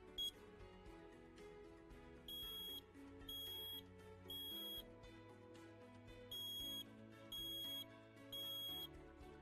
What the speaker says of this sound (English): A smoke alarm gives you 3 slow beeps.